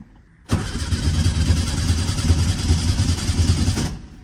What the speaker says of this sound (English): So I'm gonna get the engine started so you can see that. And this is a cold start.